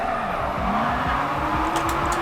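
Engine revs rise and fall continuously as a car slides sideways through a parking lot in Japanese Drift Master, with sustained tire squeal over steady motor noise and no talk.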